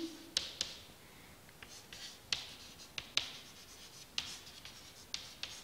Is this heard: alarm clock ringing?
no